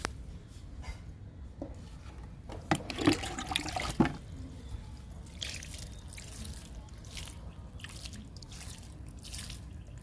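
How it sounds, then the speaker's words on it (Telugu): Water poured onto soil in garden tubs freshly planted with tomato seedlings and okra seeds, heard as soft dripping and trickling with a louder splashing burst midway, then quieter patters. "ఇంకా వాటర్ ఇచ్చేద్దాము మూడింటికి"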